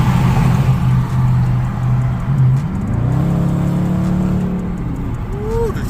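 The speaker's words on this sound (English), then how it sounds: "Check the Chevy out that's coming up on the side." A Chevrolet car pulls up alongside on a road at night, its engine droning steadily and rising in pitch as it closes in, heard from inside another car over a continuous loud road roar.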